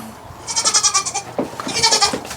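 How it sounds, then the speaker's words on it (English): Several goats on a garden farm bleat in quick, wavering bursts, one run of cries followed by another, close by and loud. "So I promised you guys goats."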